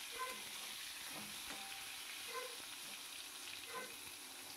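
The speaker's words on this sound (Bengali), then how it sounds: "বেগুনটাকেও আমি হালকা করে ভেজে নেবো" Thick eggplant pieces fry lightly in a pan with a faint, steady sizzle, broken by a few soft stirring or shifting scrapes spaced about a second apart.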